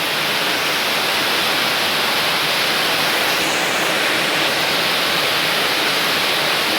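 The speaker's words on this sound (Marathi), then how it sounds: "तुम्हाला आवाज येत असेल पाण्याचा. टप चांगला धो पाणी चालू आहेत." Heavy rain pours down in a dense, steady roar of rushing water that fills the whole scene without pause, loud and close, with no voices.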